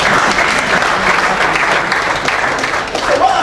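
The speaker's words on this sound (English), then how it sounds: "How about clap for me?" Summit audience clapping loudly and continuously, a dense close wash of applause from a large crowd, with a faint voice briefly audible near the end.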